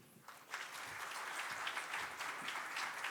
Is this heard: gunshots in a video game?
no